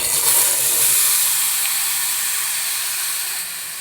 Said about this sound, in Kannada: ಇವಾಗ ಕಾಬೂಲ್ ಕಡಲೆ ಬೇಯಿಸ್ಕೊಂಡಿದ್ದು ಇದು ಸ್ವಲ್ಪ ಎಣ್ಣೆ ಬಿಸಿ ಮಾಡ್ಕೊಂಡಿದ್ರೆ ಅದಕ್ಕೆ ಹಾಕ್ತಾಯಿದ್ದೀನಿ